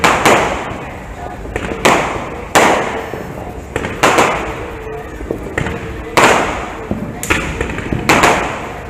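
Fireworks burst at night near a kayak on the water, a loud sharp bang roughly every second, each one trailing off in a crackling decay.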